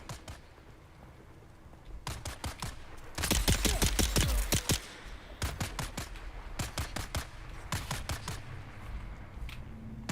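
Gunfire rings out in Dune Awakening, with spaced single shots and then a rapid, loud burst of overlapping fire before more scattered cracks over a low background rumble.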